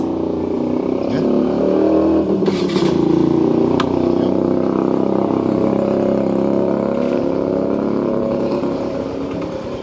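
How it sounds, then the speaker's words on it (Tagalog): A Yamaha Mio i125 scooter engine idles steadily and smoothly nearby, just after a fresh oil change, with a voice talking over its even hum. "Napaka smooth po yung andar ni Mio"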